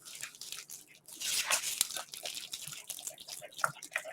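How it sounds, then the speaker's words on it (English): A spoon stirs sugar, salt and vanilla into a thick chocolate batter for a flourless cake, making close, irregular wet squelches and scraping clicks against the bowl. "I'm going to stir those in"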